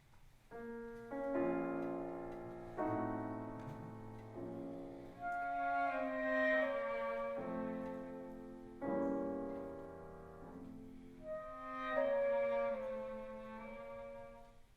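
Orchestral music in a somber minor mode, strings and winds playing a sustained, phrased melody with swelling dynamics, no voices.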